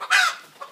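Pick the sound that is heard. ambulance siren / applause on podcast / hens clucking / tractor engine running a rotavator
hens clucking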